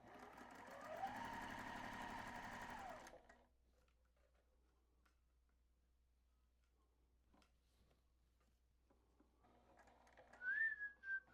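A sewing machine whirs steadily for about three seconds while quilting a friendship star block, then stops, leaving near silence with faint ticks before a brief high whistle-like squeak near the end.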